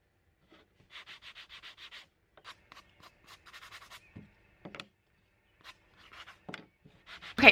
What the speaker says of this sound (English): I'm going to give them a rough hand sand because these are, you know, rustic mosaic mountains